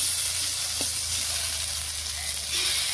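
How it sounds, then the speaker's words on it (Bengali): Spice paste hits a hot pan of frying potatoes and dheki greens, producing a steady, even sizzle that runs unbroken throughout with no talking. "মশলাটা দিয়ে দিচ্ছি।"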